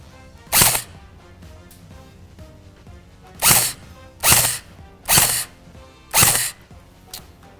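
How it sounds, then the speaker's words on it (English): Five separate sharp bursts from a G36 electric airsoft gun, each a brief mechanical whir-and-snap, spaced irregularly against a quiet background. "So I got this G36 electric airsoft gun. So we'll pop a couple shots off, see how that meters."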